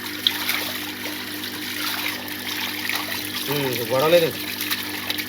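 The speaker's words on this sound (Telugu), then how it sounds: "అదిగో నీళ్ళు చూడండి అంత ఫ్రోర్స్గా వచ్చేస్తున్నాయి" A forceful, continuous stream of water pours from a freshly unblocked home drainage pipe, a close and constant rushing. Someone briefly speaks over the flow near the end.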